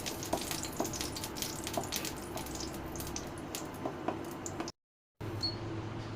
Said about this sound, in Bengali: শুকনো মরিচটা একটু তেলের উপর ভেজে নিতে হবে